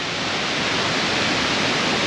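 A dense, steady roar of rushing water fills the scene, broadband and unbroken like a large waterfall heard close by.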